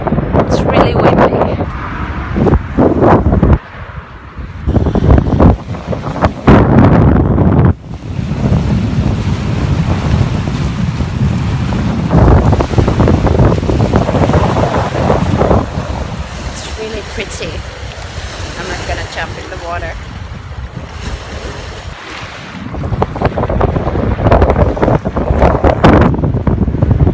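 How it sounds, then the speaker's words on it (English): Strong wind buffeting a microphone on a seashore, heavy rumbling gusts that surge and drop in bursts, with brief lulls and surf-like roar underneath over nearly half a minute. "It's really windy."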